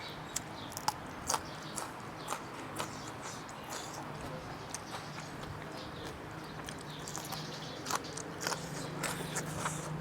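Close, wet chewing and crunchy bites of a spicy Thai pickled shellfish salad, a steady run of sharp mouth clicks and crunches over a quiet background with no talking.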